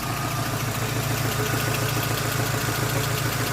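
A VAZ 21099 car with about 300,000 km on it idles close by, its engine humming in a steady, even low drone throughout with no voices.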